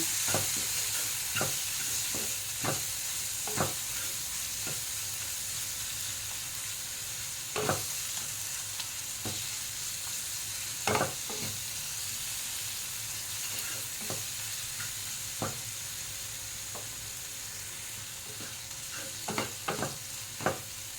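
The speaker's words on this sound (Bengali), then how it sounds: "ভালো করে কষিয়ে নেব।" Soybean curry masala sizzles steadily in a pan as it is sautéed, with frequent short scraping knocks of a spoon stirring at irregular intervals over a continuous frying hiss; no talking.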